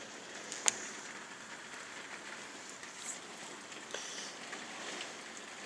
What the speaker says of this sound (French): Parce que comme vous le voyez, la pluie vient du sud.